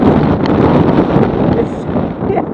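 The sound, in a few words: strong wind on a log flume ride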